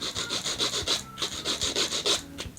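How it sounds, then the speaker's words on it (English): Rhythmic rasping strokes of a nail file working down a thick fake nail coating, steady back-and-forth rubs close up with no talking. "Once it's as thick as you want it to be, then you can start filing it down."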